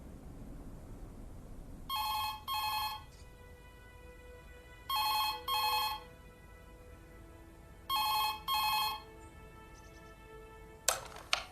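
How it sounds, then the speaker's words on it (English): A telephone rings three times, each ring a pair of bright electronic trills spaced a few seconds apart against quiet room tone, followed by a click as the answering machine picks up. "you've reached Freddie and Sam's answer phone"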